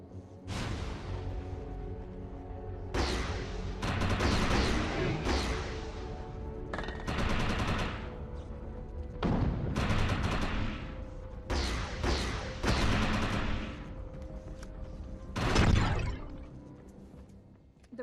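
Rapid bursts of sci-fi gunfire from the video game Defiance hitting an enemy projection, loud and close, in repeated volleys with brief gaps between them, no talking.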